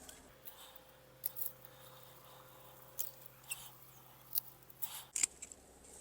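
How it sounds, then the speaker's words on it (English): A pruning tool cuts sedum stems, making a series of crisp, quiet snips at irregular intervals, including a sharper clip near the end, over a low steady background hum. "And I'm just cutting about like the top 6 to 8 inches off."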